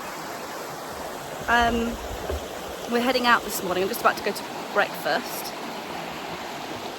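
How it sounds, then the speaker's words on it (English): A noisy river rushes through the Todra Gorge in Morocco's High Atlas mountains, a steady broadband roar running throughout while a person talks over it. "Hopefully you can hear me over this very noisy running river"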